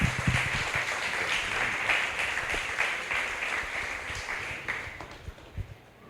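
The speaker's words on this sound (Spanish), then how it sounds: "démosle un aplauso." Congregation applauding at a Spanish-language church service, a dense steady wash of many hands clapping that fills the room, then thins toward the end.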